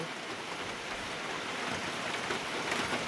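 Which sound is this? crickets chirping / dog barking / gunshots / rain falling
rain falling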